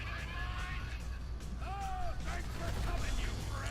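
Explosions in the video game GTA V burst over a steady low rumble, with a brief swooping tone near the middle, while excited voices talk over the game sound.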